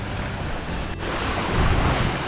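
Sea waves wash against a rocky cove in a continuous, loud roar of surf, with wind buffeting the microphone and a swell rising toward the end.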